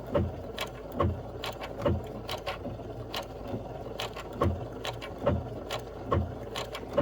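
A domestic sewing machine run slowly on its start button with no foot pedal, stitching a quilt block: a steady mechanical whirr punctuated by evenly spaced needle clicks, moderately close and alone.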